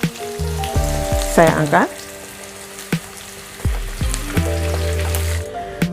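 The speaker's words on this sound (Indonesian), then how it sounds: "Menggoreng babat ini tidak perlu terlalu kering ya teman-teman, karena babatnya sudah sangat empuk juga." Beef tripe sizzling and frying in a pan for Madurese nasi babat, a steady loud crackle throughout with brief clanks of a utensil and a short spoken phrase.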